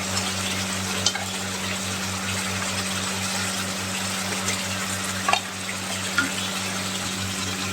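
Potatoes frying in spiced oil for a Bengali potato, pointed gourd and prawn curry: a steady, close crackling sizzle with a few louder pops and stirring scrapes, no talking.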